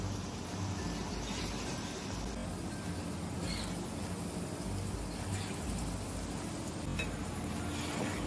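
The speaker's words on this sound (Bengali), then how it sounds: "প্রথমে বড়াগুলো হালকা লাল করে আমি ভেজেছি, পুরো লাল করিনি" Steady, dense sizzle of fritters (bora) deep-frying in oil in a pan over a low-to-medium gas flame, a continuous crackling hiss throughout with no talking.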